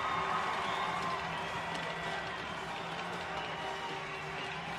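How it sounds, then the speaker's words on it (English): A capacity hockey arena crowd at Co-op Place roars steadily after a fight in a WHL game, a dense wash of cheering and shouting heard from within the stands. "now fires up the capacity crowd here inside Co-op Place"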